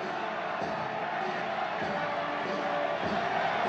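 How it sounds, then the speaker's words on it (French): A large crowd roars and cheers without a break as the new pope, Leo XIV, the former Cardinal Prevost and the first American pope, greets them, a dense wash of voices with a few shouts rising above it. "Le nouveau pape salue la foule qui l'acclame déjà"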